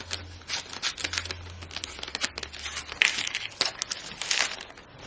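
Scissors snip through paper to cut out a small label, a run of close, crisp cuts and crinkles with no talking.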